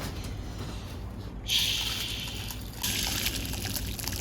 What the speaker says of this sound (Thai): ให้นำน้ำร้อนมาเทใส่ได้เลย